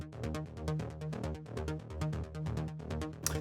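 Diva synth preset Bonsai Garden plays a fast three-octave arpeggio, one held note cycling through rapid bright plucky steps in an even rhythm, loud and close with nothing else over it.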